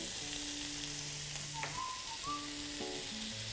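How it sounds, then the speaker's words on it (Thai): Garlic fries in rendered bacon fat, a constant dense sizzle that stays even and close throughout, with faint tonal hum in the background and no talking. "น้ำมันในตัวเบคอน แล้วก็กลิ่นหอม ถึงเวลานี้อย่ารอช้าครับ ใส่กระเทียมตามลงไปต่อเลย"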